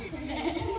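A person imitates a sheep's bleat during a party animal-sounds game, a short wavering nasal 'baa' sound close to the mic.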